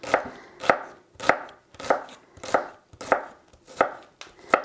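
Onion is chopped with a knife on a board, eight evenly spaced crisp thuds in a steady rhythm, close and clear with no voices.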